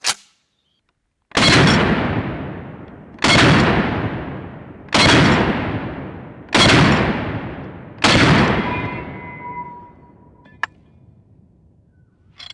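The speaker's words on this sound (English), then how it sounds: "I bet those bullets hitting the steel is incredibly loud on that microphone." Five loud M1 Garand rifle shots ring out at even intervals, each with a sharp crack and a long decaying echo, mixed with bullets striking steel targets, followed by a faint metallic ping.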